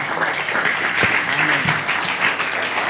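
Church congregation applauding steadily in praise, a dense, continuous wash of clapping that fills the room, with a few faint voices mixed in.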